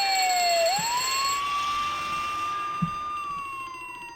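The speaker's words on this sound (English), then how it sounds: "Yeah, there is a fire alarm. Yeah, just pull that." School fire alarm in a video game, a loud electronic siren tone that glides up and holds steady, with faint thuds underneath and no talking.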